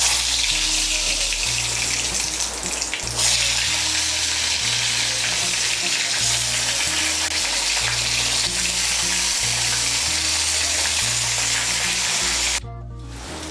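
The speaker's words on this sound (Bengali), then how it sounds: "এর মধ্যে পটলগুলো ভেজে নেব।" Pointed gourds fry in hot mustard oil in a wok, sizzling loudly and constantly up close with occasional stirring, while soft background music plays underneath.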